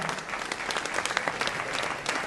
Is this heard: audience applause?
yes